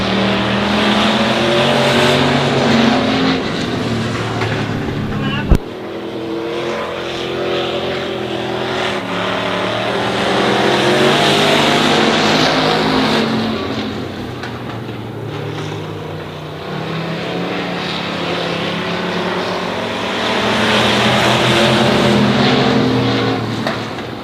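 Stock cars race around Honor Speedway, their engines roaring in a loud, continuous drone that swells and fades as the pack passes.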